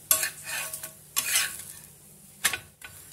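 Millet adai cooking in a pan gives a soft sizzle broken by three sharp scraping bursts of a spatula flipping and stirring, close and fairly quiet.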